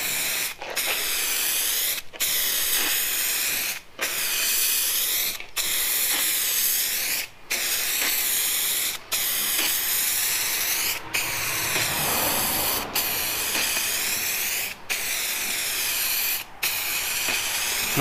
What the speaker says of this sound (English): It sprays pretty good.